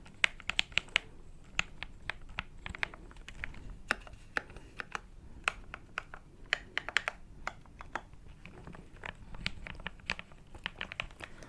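Fingers tap on a custom keyboard with ABS plastic keycaps, producing rapid irregular clacking keystrokes, close and crisp, with short pauses between bursts of typing.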